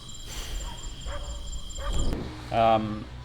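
Dogs bark and yip at night in the open, a few short calls at moderate distance, mixed with human sounds and low background noise.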